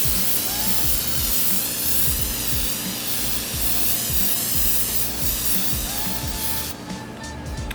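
Spray paint being applied in coats to an aquarium background for a small nano reef tank, a steady close hissing spray running almost continuously with a faint rhythmic low thumping underneath, cutting off near the end.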